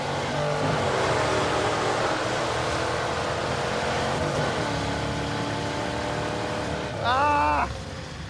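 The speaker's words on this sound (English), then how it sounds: "The clutch is spinning" A Trans Am V8 with a slipping clutch and dead flywheel, on nitrous, drones loudly and steadily with rising engine tones, then gives a sharp climbing rev burst near the end.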